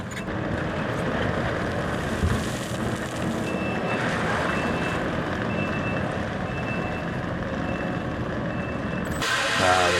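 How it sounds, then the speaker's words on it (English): A Harley rake soil conditioner grinds through a gravel driveway, giving a steady, loud mechanical roar with a faint high beeping layered over the middle stretch, continuous and close throughout. "It's really a soils conditioner. Some people call it a Harley rake."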